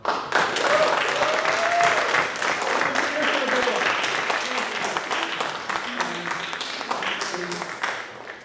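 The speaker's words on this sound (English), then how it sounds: "how about a big round of applause for everyone who read today and put forward and discussed their work" An audience at an open poetry and fiction reading and release party breaks into sustained applause for the readers, dense clapping from the room running throughout with some voices in the crowd mixed in.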